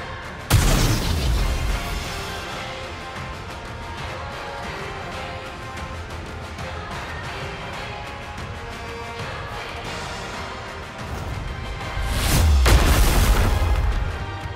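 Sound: gunfire and bombardment in Goddess of Victory NIKKE video game

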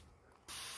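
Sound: spraying Nubun brand spray

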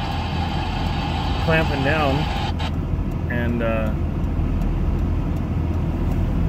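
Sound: car engine running while being driven

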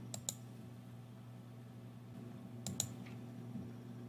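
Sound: computer mouse clicking to select a policy name

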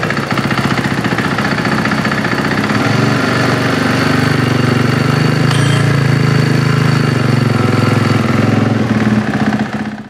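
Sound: Husqvarna FC450 motocross bike engine running

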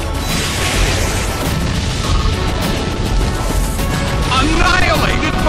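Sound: Explosion attack in Pokémon Battle Revolution video game

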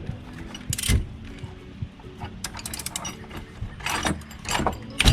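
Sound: ratchet wrench loosening tight bolts on Isuzu D-Max engine

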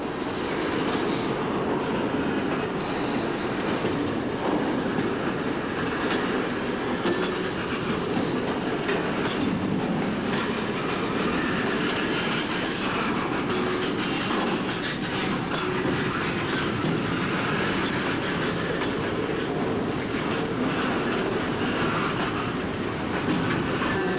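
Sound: freight train passing

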